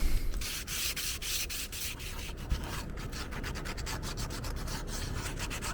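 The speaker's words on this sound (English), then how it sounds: "I've got some 150 grit drywall sandpaper that'll probably do just fine for what I need" Rust is sanded off a brake part by hand with 150 grit drywall sandpaper, steady rapid back-and-forth rasping strokes, close and continuous with no talking.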